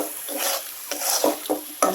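Prawns, ginger and fried coconut being stirred in a frying pan, with a few sharp scrapes and clatters of a spatula against the pan over a soft sizzle, close and loud with no talk.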